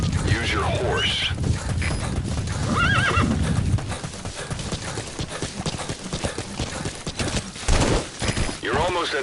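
Hooves clip-clop steadily amid Metal Gear Solid V game sound effects and background voices, with several horse whinnies rising above the mix.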